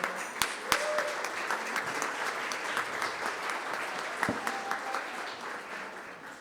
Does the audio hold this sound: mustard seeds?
no